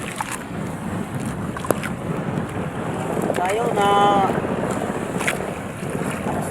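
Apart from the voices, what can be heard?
sea waves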